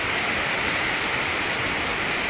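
Strong wind drives through a rainstorm in a constant, loud rushing roar with no gusts or breaks and no talking.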